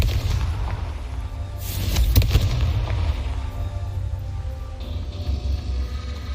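Confringo blasting spell in Hogwarts Legacy, a single loud booming burst with a sharp crack near the middle, then a rumbling decay over a low background drone.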